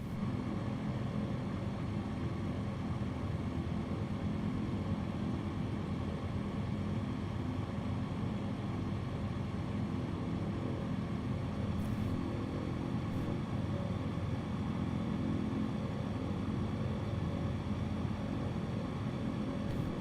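Engine drone inside a Cub light aircraft on approach for a landing in a nasty direct crosswind, a steady, loud droning hum that holds constant throughout with wind rumble beneath.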